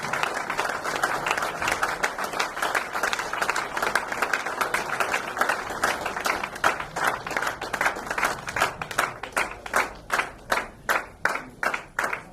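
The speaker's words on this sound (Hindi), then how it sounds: "तो जोरदार तालियों के साथ सूरज काजी सर का यहाँ पर स्वागत करेंगे" An audience at an organic agriculture product event in Sangli applauds to welcome a speaker, dense sustained clapping that gradually thins into separate, rhythmic claps toward the end.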